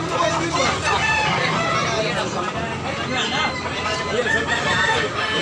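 Roosters crow and chickens cluck amid loud market babble and nearby voices at a poultry market in Tabunok, Talisay, Cebu, the birds layered thickly through dense crowd noise.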